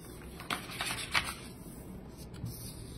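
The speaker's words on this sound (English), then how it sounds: "you're going to take your sheet of printer paper, and just like the first airplane, you're going to fold it in half long ways" Sheet of printer paper being folded in half lengthwise for a paper airplane, with a few soft crisp rustles and creases close by, quiet overall with no talking.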